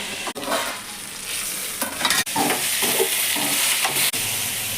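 Ivy gourds (tindora) frying in oil in a pan, stirred steadily with a spatula: continuous close sizzle with repeated scraping strokes and a few sharp clacks, no voices.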